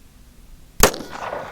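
A single sharp shot from a Springfield Armory 1911 TRP pistol firing a 230-grain or 185-grain handload, one loud crack after quiet, followed by a brief ringing decay.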